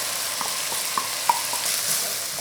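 Blanched octopus (nakji) hits a hot pan with crisp-fried onion, giving a steady moderate sizzle with a few light clicks of a utensil.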